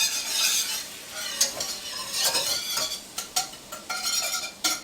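Garlic cooking in a pan with onion powder and dried sage for butternut squash mac and cheese: a steady soft sizzle broken by repeated close scraping strokes of a utensil against the pan, with no speech.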